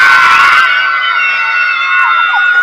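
A crowd of schoolchildren at a school health awareness program shout yes together, loud and close, then the cry trails into a sustained high chorus.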